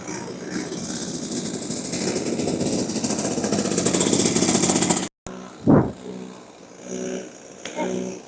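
A go-kart engine runs loudly and steadily on a track for several seconds, then cuts off abruptly, followed by a brief whoosh and quieter engine sounds.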